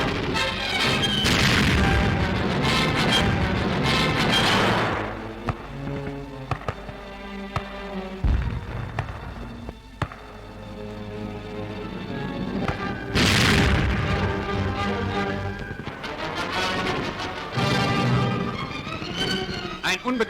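Explosions on a World War II battlefield as German infantry and paratroopers destroy enemy tanks at close range, with heavy booms and crashes under a narrator and newsreel music.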